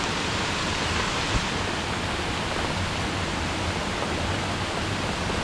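Steady rain falls outdoors beside a river, a dense, even hiss of droplets with no break and no voices.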